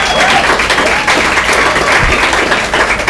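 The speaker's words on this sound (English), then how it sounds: "Everyone give our young ladies on the basketball team a round of applause." A crowd applauds the women's basketball team during a live radio preview broadcast, loud, dense clapping that runs continuously and evenly from start to finish.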